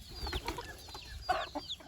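Native country hens clucking in short, irregular bursts at close range, with a few higher squawks mixed in and no talking.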